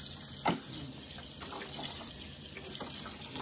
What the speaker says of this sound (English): our faucet is a touchless because with this sink I get water everywhere.